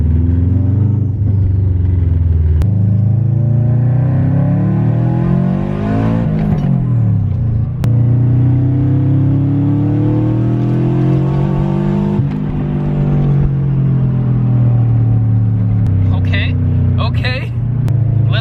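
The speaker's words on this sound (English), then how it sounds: "So I'm gonna go take it for a drive" A Subaru WRX with a suspected ground cable and boost gauge problem is driven with its engine droning loudly and steadily, pitch rising and falling as it revs and shifts, close and continuous, with someone talking over it.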